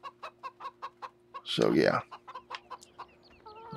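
Chickens cluck in Farming Simulator 17 with rapid, evenly spaced clucks, close and distinct. A burst of louder noise cuts in partway through, and someone briefly speaks near the end.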